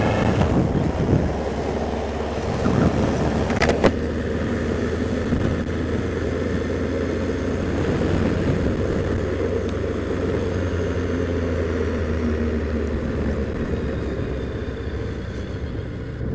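Steady wind buffeting and a low engine drone from a motorcycle ridden with a Kaoko throttle lock, loud and continuous for the whole ride, with a brief clatter near the start and no talk.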